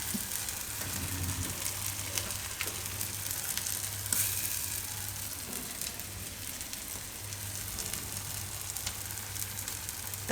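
Paneer pieces sizzling in tomato gravy in a pan over low gas, a steady soft crackle and hiss that continues evenly throughout with a faint low hum beneath.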